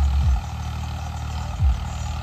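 A turbocharged tractor with power compared to a 65 HP model works a potato field at night, its low engine rumble steady with two brief deep surges.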